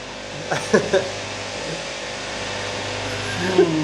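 Steady lawn mower engine noise runs throughout in the background, an even mechanical drone beneath a few short spoken phrases near the start.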